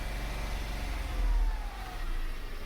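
An engine that has struggled to start is held running with revs, a steady close low rumble that swells briefly in the middle before settling back.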